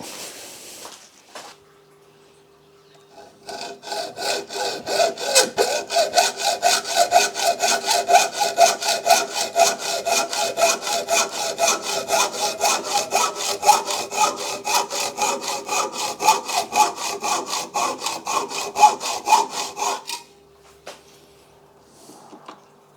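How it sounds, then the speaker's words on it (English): Hacksaw cutting metal in a home workshop, rapid steady back-and-forth rasping strokes for about sixteen seconds, close and fairly loud, starting and stopping abruptly with no talk. "Oh, Chris, borrowing your hacksaw, mate."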